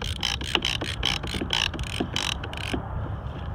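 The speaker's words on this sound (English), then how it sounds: "Get it in your ratchet mechanism." A ratchet strap is cinched tight around stone slabs, giving a rapid series of sharp clicking ratchet strokes, close and fairly loud, before the sound settles into quieter background noise.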